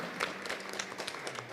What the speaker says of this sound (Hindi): ज़ोरदार तालियां बजाएंगे हम जरमाया के लिए